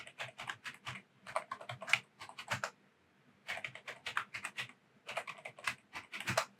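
Fingers type a password on a computer keyboard, quick soft clusters of key clicks in three bursts with short pauses between, close and fairly quiet.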